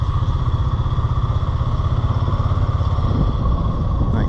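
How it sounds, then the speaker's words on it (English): Two Oliver 880 tractors hitched in tandem pull a four-bottom plow at a farm show, their engines a steady, loud, close throbbing drone with a rhythmic chugging pulse and no talk. "Oliver 880 hooked in tandem. Pulling a four bottom plow."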